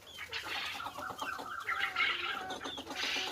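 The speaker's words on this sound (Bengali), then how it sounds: "এই দেখতে পাচ্ছেন মুরগিগুলা" Fayoumi chickens in a farm pen cluck close by in short rapid bursts, several birds overlapping with no talk.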